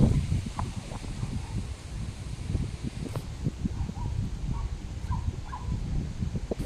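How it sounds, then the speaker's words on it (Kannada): Steady wind gusting through a mango tree under heavy cloud, leaves rustling in a continuous low roar, with a few faint bird calls in the distance. "ಗಾಳಿ ಯಾವ ಥರ ಬೀಸ್ತಾ ಇದೆ ಹೇಳಿ"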